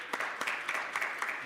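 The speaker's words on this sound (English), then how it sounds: "Another round of applause for our panelists this morning." An audience at a digital technology conference claps for its panelists, a brief patter of scattered hand claps under a faint roomy murmur.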